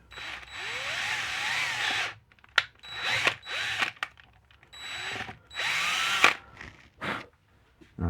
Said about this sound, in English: we're just going to drill through